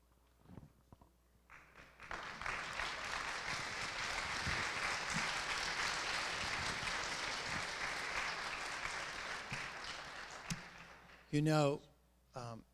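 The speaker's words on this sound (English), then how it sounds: "would you join me in another round of applause for her?" A large audience breaks into sustained applause that rises quickly, holds for several seconds, then fades, with a voice speaking briefly near the end.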